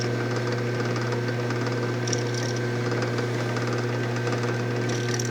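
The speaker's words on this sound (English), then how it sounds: "The machine's running nice and quiet." A drilling machine runs steadily while drilling fasteners for lock wire, a smooth continuous mechanical hum with a faint rhythmic whir and occasional light ticks, close and fairly quiet, with no talking.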